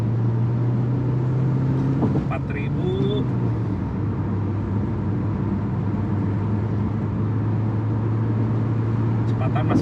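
A DFSK Glory i-Auto car climbs a mountain road in manual mode from third gear, its engine giving a steady, loud low drone that holds throughout, with brief faint clicks and tones above it.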